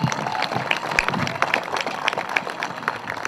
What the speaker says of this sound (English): let's give Kevin Chase a round of applause